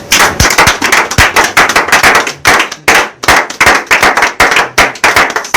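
A church congregation claps loudly in quick, sharp bursts that come in a steady, repeating rhythm, with no voices heard.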